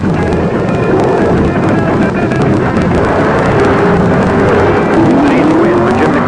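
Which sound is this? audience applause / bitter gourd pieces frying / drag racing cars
drag racing cars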